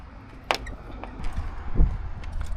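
Creaking and clicking of a Toyota AE86 Corolla door opening, with a sharp latch click early on and a duller thump later, close and fairly loud.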